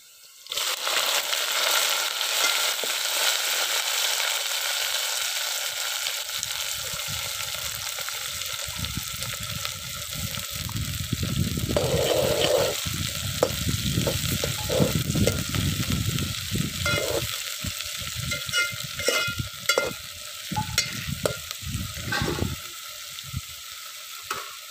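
Green onions sizzle and fry in a pan while being prepared for a Saurashtra-style eggplant oro, a steady loud crackle with intermittent stirring and scraping bursts, no talk.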